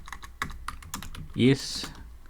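Keys clatter on a computer keyboard while code is typed into a Python editor, a quick uneven patter of close taps with a person speaking softly between them.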